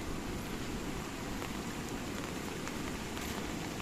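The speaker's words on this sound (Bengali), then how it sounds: "ব্রিজের উপর দিয়ে প্রচণ্ড জল যাচ্ছে।" Floodwater after heavy rain rushes over the Kuilapal bridge in a steady, loud, broadband roar that holds without a break, with no voices.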